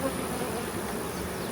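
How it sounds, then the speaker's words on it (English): Honeybees buzz steadily around a freshly made ten-frame summer hive split, a dense, continuous hum of many insects flying close by with no pauses. "You can see bees, there's some flying on top of it"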